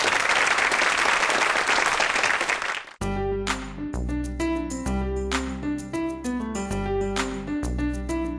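An audience at a Korean startup lecture breaks into dense, steady applause that carries on for about three seconds, then cuts off abruptly as loud instrumental music with a thumping beat takes over.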